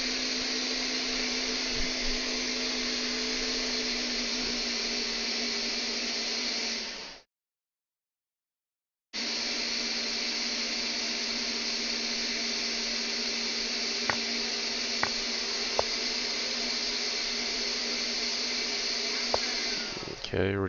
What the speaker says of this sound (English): apologies if you've got a noise of a blender there in the background